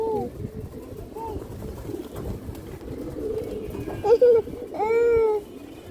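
Old-breed loft pigeons kept for sale coo in low, continuous rolling murmurs close by, with a couple of brief higher calls or voices breaking in near the end.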